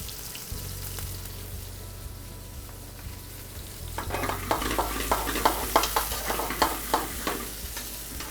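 Monkfish and garlic fry in a pan, starting as a quiet sizzle over a low hum before the pan is shaken and a louder crackling sizzle takes over, full of rapid pops and spatters.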